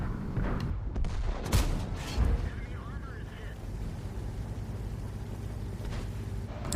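Tank-game artillery booms out in a few heavy, low blasts early on, followed by a rumbling battlefield backdrop while a voice talks over it.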